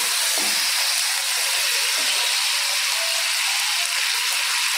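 Curry leaves dropped into hot oil with asafoetida, giving a steady bright sizzle and hiss that holds evenly from start to finish, close and alone with no talk.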